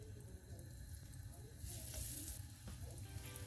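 Zucchini slices sizzling in hot oil on high heat, a steady, soft crackling hiss that swells slightly midway and continues without talk.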